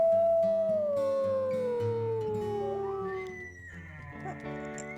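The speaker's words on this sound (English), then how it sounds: "So let's do a little bit of howling." Wolves in the WolfQuest video game howl, one long howl that glides downward with other voices joining in, then higher howls overlap near the end.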